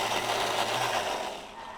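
A blender whirs steadily as it purees a simple red chilli for whipped cod's roe taramasalata, a continuous, loud motor drone with no talk, easing slightly toward the end.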